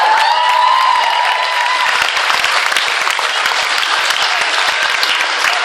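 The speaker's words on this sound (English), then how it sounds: "Round of applause." Loud, dense applause from a crowd after a Māori mau taiaha weapon demonstration, strongest at the start and then settling into steady clapping.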